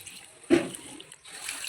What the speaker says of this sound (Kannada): ಇವಾಗ ನೀರು ಹಾಕಬೇಕು.